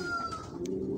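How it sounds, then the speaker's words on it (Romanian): Small tits calling in an aviary, thin high whistled notes over a low murmur of other birds, close and brief, with no talking. "Aici e armata de pițigoi. Tocmai ce am adus de jos din volier."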